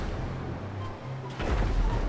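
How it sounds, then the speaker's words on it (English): Muffled explosions in GTA 5 Online boom in the distance, with a heavier blast rumbling near the end; low, thudding and continuous, no talking. "I can just hear explosions."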